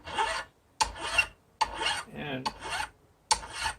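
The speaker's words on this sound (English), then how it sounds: "I'm going to file the top of that flat." Hand file rasping across a small metal window latch clamped in a bench vise, five distinct close strokes with short pauses between them, a brief spoken word in one gap.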